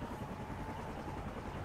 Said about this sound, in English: I have to wait till the helicopter.